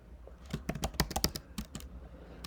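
Code is typed on a computer keyboard in a quick, uneven burst of close, crisp keystrokes lasting about two seconds, heard alone without voices.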